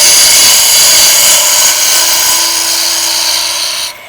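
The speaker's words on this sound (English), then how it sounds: "so you can see how I cut close to the tail center with my bowl gouge" A bowl gouge cuts a chucking tenon on a spinning maple burl bowl on a lathe, a loud continuous high whine and hiss that drops off abruptly near the end.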